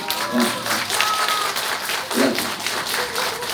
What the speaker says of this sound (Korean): 이런 박수 한번 보내주세요